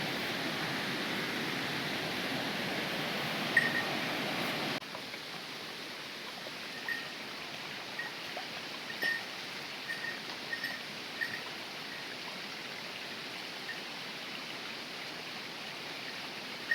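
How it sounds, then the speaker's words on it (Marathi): Steady rushing water from a stream flowing between two hills in a forest, a continuous broadband wash with occasional faint bird chirps, heard alone without talk. "पाण्याचा आवाज पण येतोय."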